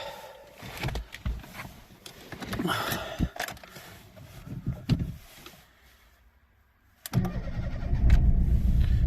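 A Fiat Brava car engine cranks and catches, revving roughly before dropping quiet, then starts again and settles into a loud, steady rumbling idle up close, with a burnt-through exhaust.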